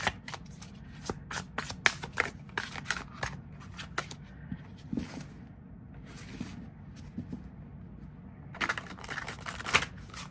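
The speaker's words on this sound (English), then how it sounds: "Oh, it shuffles so good." A new tarot deck with gilded edges is riffle-shuffled up close, giving bursts of crisp rapid flutters separated by short pauses, fairly quiet and alone.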